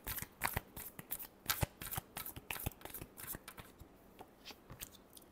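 Tarot cards shuffled during a Gemini horoscope reading: a steady run of riffling, flicking card sounds with quick repeated bursts, close and moderately quiet, with no talking.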